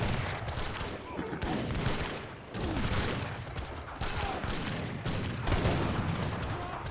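Massed musket volleys from battling musketeers and infantry in Age of Empires 3, crackling in repeated rippling bursts with steady battle clatter throughout, a commentator's voice running underneath.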